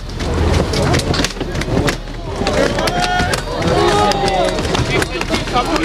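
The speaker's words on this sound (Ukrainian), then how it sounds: "Натовп виламує двері, але зайти вдається не усім." A crowd forces open the door of a gas company office in Kryvyi Rih, a dense, loud jumble of shuffling, knocks and raised voices with sharp thumps scattered throughout.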